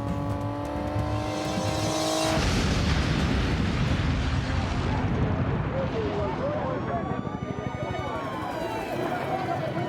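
A massive truck bomb explosion at a US Embassy: a sudden deep, roaring blast that swells into a long rumbling, crackling aftermath with lingering tonal whines, loud and close, mixed with a voice.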